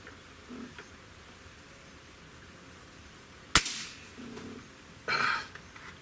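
A single sharp crack from a Beeman Bison air rifle with a .177 barrel, loud and close, rising abruptly from a quiet background, followed shortly by a brief burst of rustling handling noise.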